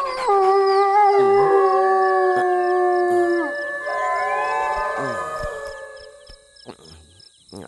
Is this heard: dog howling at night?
yes